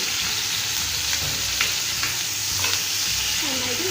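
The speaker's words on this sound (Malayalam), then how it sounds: "നന്നായിട്ട് മിക്സ് ചെയ്ത് കൊടുക്കാം." Spiced potatoes and a spoonful of sauce sizzle in a hot pan while being stirred. A steady, loud frying hiss runs throughout, broken by scraping stirring strokes near the end.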